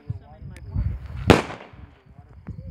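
A single sharp firecracker bang cracks out amid light background chatter, with a few smaller pops scattered around it.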